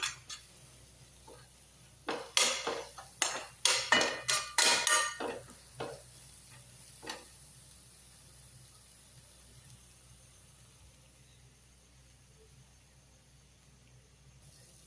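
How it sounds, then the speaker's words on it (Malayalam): A utensil scrapes and clatters against a pan as eggs are scrambled and mixed for egg masala, a burst of quick metallic strokes around the middle of the stretch, then a few sparse knocks before fading to quiet. "ഇനി നമുക്ക് ഇതൊന്ന് നന്നായിട്ട് മിക്സ് ചെയ്തെടുക്കാം. ഈ മുട്ടയെല്ലാം ചിക്കി എടുക്കാം."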